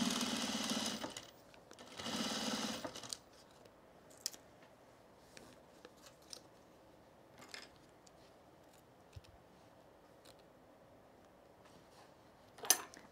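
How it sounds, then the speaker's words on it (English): A sewing machine stitches cargo pants in two loud, steady runs of a few seconds each, followed by quieter scattered clicks and taps from the presser foot and handling of the fabric. "You don't mind the presser foot noise?"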